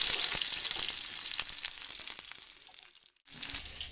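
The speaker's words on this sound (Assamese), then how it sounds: "পিঁয়াজখিনি প্ৰায় ভজা হৈ গৈছে।" Chopped onions with cumin sizzle and crackle in hot oil in a pan, a steady close frying hiss with scattered pops, briefly dropping out near the end before resuming.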